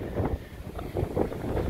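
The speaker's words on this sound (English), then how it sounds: "Some nice little gusts coming through right now." Gusty wind ahead of Hurricane Ida at a damaged house on Dauphin Island, Alabama, rushing in broad, rough surges against the microphone, with a steady low roar swelling and easing over a couple of seconds.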